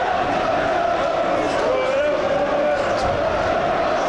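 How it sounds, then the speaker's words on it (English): Stockport County football fans chant steadily in a stadium during the 1990-91 season. The roar is continuous and dense, with talk over it. "And the crowd are really chanting now"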